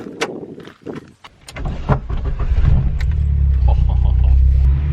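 A Ford Escort RS Turbo series one, 230 bhp, starts up and rumbles at a steady idle with a loud low drone after some door and cabin handling noises.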